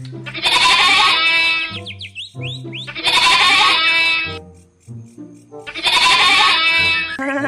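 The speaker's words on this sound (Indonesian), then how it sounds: "Ini kambing." Loud, close goat bleats repeat three times in a strained, wavering cry, with short gaps of quieter noises between them.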